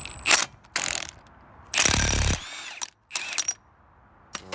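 A ratchet wrench loosening the front hub nut on a Dodge Cummins and Chevy 1500 truck, heard close and loud in several separate bursts of rapid clicking, with short pauses between them.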